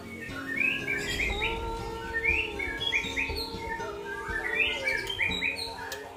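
Captive-bred white-rumped shamas (murai batu) at a breeding farm in Sungai Kemoyang, West Sumatra, sing repeated rich whistled phrases and chirps, bright and fairly close over a steady background of other birds.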